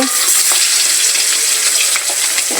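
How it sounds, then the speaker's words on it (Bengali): Pangas fish fries in hot oil with a loud, dense, steady crackling sizzle and small bubbling pops, close and without any voices. "মাছটা কিন্তু খুব ফুটছে"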